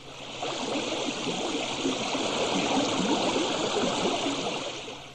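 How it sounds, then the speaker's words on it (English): A huge, continuous gurgling rush of water, like a churning stream or waterfall, swelling in and holding steady throughout, loud and alone with no voices. "Then the animals heard it. A huge gurgling noise."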